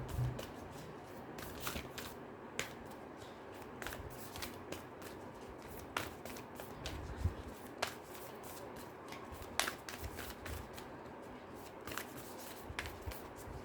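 Moonology oracle cards are shuffled close by, a quiet ongoing riffle of soft papery flicks and slaps in a loose, irregular rhythm, with no voice over them.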